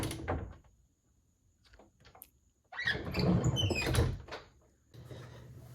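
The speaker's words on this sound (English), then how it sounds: "a creaky pantry to signify me trying to open it and grab a pan out" Foley creak of a pantry door being pulled open, a few short taps and rustles followed by a louder creaking, scraping stretch, then a low settling hum, close and alone.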